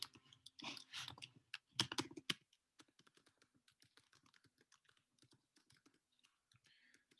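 Computer keyboard typing while a program is written, with a few louder bursts of keys at the start, then a steady run of light, quick clicks that stays faint and close.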